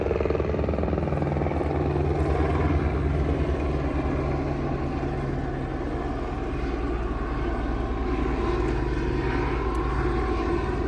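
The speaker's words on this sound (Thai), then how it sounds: "อันนี้เครื่องบินก็ เฮลิคอปเตอร์ก็กำลัง บินสำรวจนะครับน้ำท่วม" A helicopter flies over floodwaters near the Pa Daet weir on the Ping River, its loud, steady engine and rotor drone filling the air without pause.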